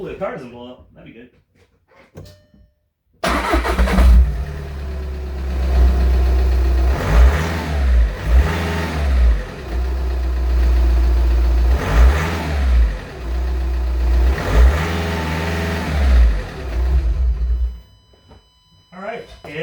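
A Volkswagen TDI diesel engine with the catalytic converter removed and an open exhaust catches abruptly and is revved hard several times in rising and falling surges, loud and close, settling back between blips.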